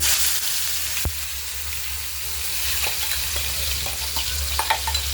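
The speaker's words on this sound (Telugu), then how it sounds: "ఆల్రెడీ ఆనియన్ టమాటా పచ్చిమిర్చి పచ్చ పచ్చగా మిక్సీ పట్టుకున్నాను ఇది బాగా వేగాలి" A steady sizzle of blended onion, tomato and green chili paste frying in a hot pan, with occasional stirring scrapes and clicks, close and fairly quiet.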